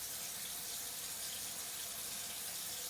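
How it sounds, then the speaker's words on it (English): A faucet runs steadily as hands are washed at a sink, a continuous soft hiss of flowing water with no talking over it. "turn on the faucet, wet my hands"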